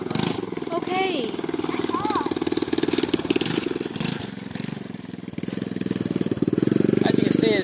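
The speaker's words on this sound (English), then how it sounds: "As you can see, it sounds really good. It's a good engine." A TaoTao 110 dirt bike engine runs and revs on a dirt hill, its buzzing drone rising and falling, with voices talking and calling over it throughout.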